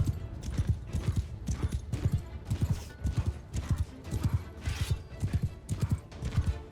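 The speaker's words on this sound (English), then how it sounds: "they got a lot of horses" Horses gallop in the Mount & Blade Bannerlord video game during a battle, with a dense run of rhythmic hoofbeats that pound steadily and loudly throughout, and occasional faint whinnies mixed in.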